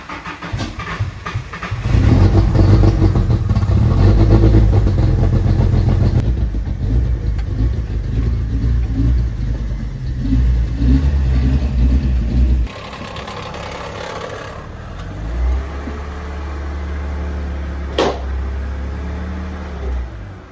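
A BMW E46 car engine cranks and catches, revving loudly before settling into a steady low idle, with a brief sharp squeak near the end.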